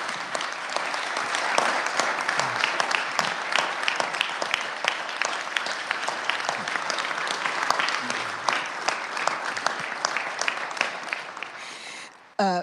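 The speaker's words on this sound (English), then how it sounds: "give a round of applause to Senator Donald Betts" A full round of applause fills a state senate chamber for a senator, dense and sustained clapping that stays even throughout before breaking off abruptly at the end.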